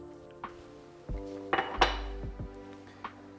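Hot cream being stirred into chocolate for a ganache in a bowl, heard as several separate clinks and knocks of a utensil against the dish, close and fairly quiet with no talk.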